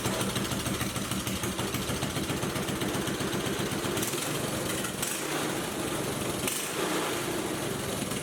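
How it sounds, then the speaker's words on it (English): A homemade pit bike's small motor idles close by, a steady, rapid putter that runs continuously with slight dips in its low rumble. "the little motor runs good, and it's got plenty of power."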